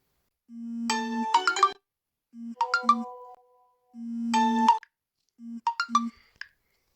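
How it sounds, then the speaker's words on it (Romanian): An incoming-call phone ringtone plays a repeating electronic melody in four short phrases, each opened by a low buzzing tone and followed by bright chiming notes, loud and close with brief gaps between. "Mă sună Cristi."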